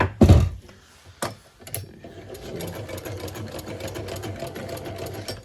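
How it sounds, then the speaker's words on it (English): An old hand-cranked Hitachi sewing machine running steadily at close range, a sharp thump and a few knocks at the start giving way to a continuous mechanical whirr and clatter. "old looking Hitachi sewing machine. It's all hand cranked."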